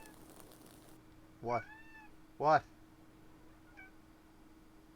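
Two distinct meows from a cat, a second apart, close and clear over a quiet indoor background with a low hum.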